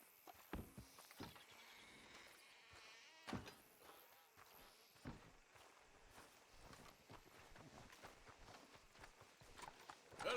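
Horse hooves clip-clop steadily in Red Dead Redemption 2, a fairly even walking rhythm of soft thuds over a faint insect-buzz ambience, quiet overall.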